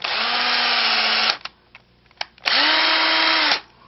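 A powered M3 tap runs through bolt holes in a mount, two sustained high whirring bursts of about a second each, close and loud, separated by a short pause with small clicks.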